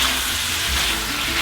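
Steady, loud sizzling of pork stir-frying in a hot wok for twice-cooked pork, a continuous hiss with faint stirring scrapes.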